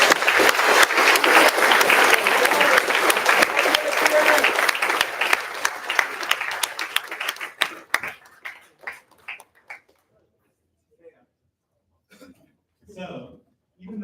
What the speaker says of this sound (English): let's just give one final round of applause for everybody here